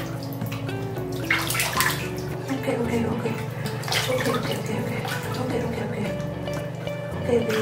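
A chihuahua gets a bubble bath in a tub, with water sloshing and splashing steadily and close by throughout while a voice murmurs softly underneath.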